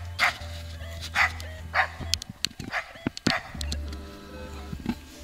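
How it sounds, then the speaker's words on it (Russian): A dog barks repeatedly from the far bank of a river, a handful of sharp barks spaced out over a few seconds with a low steady hum underneath. "Собачка на той стороне."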